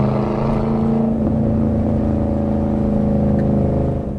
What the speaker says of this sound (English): And that exhaust note, it really has a good tone to it.